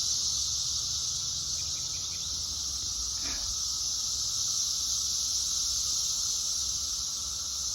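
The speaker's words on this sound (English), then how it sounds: "the buzzing you hear on the audio is billions of those suckers up in the trees" Brood X cicadas high in the trees give off a dense, unbroken buzzing drone that holds steady at a constant loud level throughout, with one brief chirp rising out of it.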